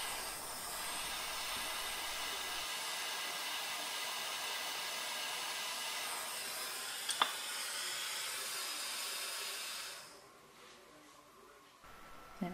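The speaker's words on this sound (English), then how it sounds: "just keep heating until you see the solder melt into the join." A gas torch heats a solder joint on wire with a close, steady roaring hiss for about ten seconds. It then cuts off, leaving a quieter background and a small click.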